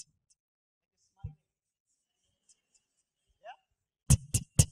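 Beatboxed hi-hat made by a voice imitating the cymbal with a crisp "T" consonant: three sharp, bright ticks in quick succession near the end, preceded by a few faint mouth noises and near-silence.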